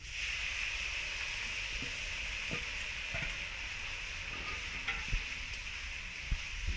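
Onions frying in oil with turmeric for mutton curry, a steady soft sizzle and hiss throughout, with occasional faint clicks and stirring taps underneath.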